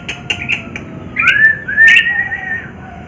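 An Asian pied starling (jalak suren) calls close and loud, a few short chirps followed by clear rising whistled notes, with no talk.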